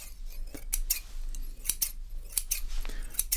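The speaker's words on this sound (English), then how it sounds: "then we have the traditional pair of scissors here where you can apply a faster haircut" Traditional barber scissors snip through hair during a professional haircut, giving crisp, close metallic clicks in quick irregular clusters with short pauses between, and no voices.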